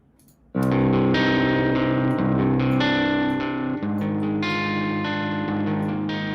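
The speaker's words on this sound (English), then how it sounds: "I just want to hear what the clean tone sounds like quickly." Clean electric guitar tone through the Archetype Nolly amp plugin, a steady run of sustained, chiming chords and arpeggiated notes with a lush chorus-like shimmer and reverb, loud and close with no talking.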